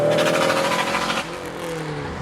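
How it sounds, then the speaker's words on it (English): A 400 hp 90s JDM Subaru Impreza STI Type R Version III drives on a rainy, wet road, its engine note loud and close, rising and falling in pitch before easing to a lower drone. "I am driving a 90s Subaru on a very rainy, wet day"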